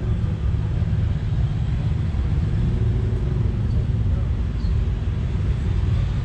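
Supercharged big-block hot rod engine with dual quad carburetors at a drag strip car show, a loud, steady low rumble that holds close and continuous throughout, with traffic noise around it and no clear speech.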